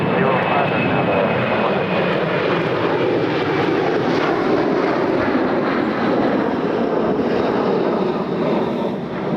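A fixed-wing airliner departs from Toronto Pearson airport, its engine roar loud and continuous throughout, with no talk over it.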